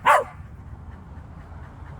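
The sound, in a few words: cocker spaniel dog barking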